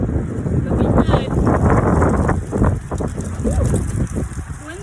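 Gusty wind buffets the microphone with a constant rumbling roar, rising and falling over a few seconds.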